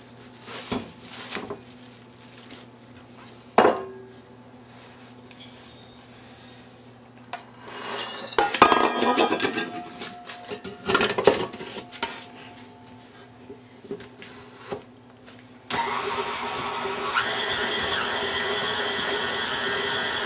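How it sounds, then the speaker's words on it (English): Butter, marzipan and sugar are creamed in a bowl with scraping and rubbing strokes, irregular and close, ending in a steady whirring hum. "we're going to cream together the butter, the marzipan, and the sugar"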